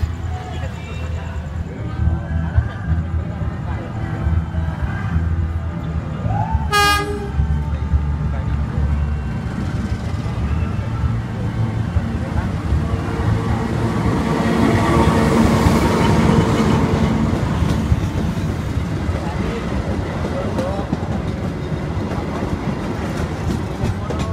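A train passing at night in Yogyakarta, Indonesia: a steady, loud rumble of wheels and carriages with rhythmic clatter and one brief high horn-like tone, while people talk over it throughout.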